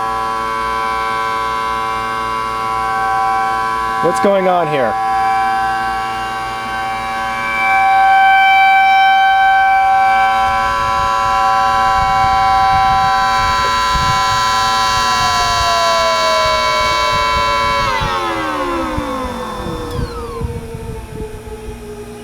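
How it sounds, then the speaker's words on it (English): A Thunderbolt civil defense siren sounds during an alert test, a loud sustained harmonic wail that holds steady for a long stretch, then winds down in pitch toward the end, with a brief pitch sweep near the start. "siren's gone for more than 3 minutes. It's gone for 4 minutes now."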